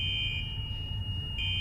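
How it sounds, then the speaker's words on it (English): An upstairs fire alarm sounds as a loud, steady high-pitched electronic tone that drops out briefly and then resumes, with a low rumble underneath. "Upstairs, the fire alarm activates."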